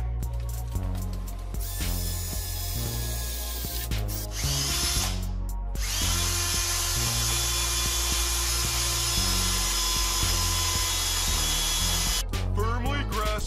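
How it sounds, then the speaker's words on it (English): A power drill with a 1/4 inch bit whirs in repeated bursts, spinning up and biting into material, loud and close with brief pauses between runs. "let's drill some holes"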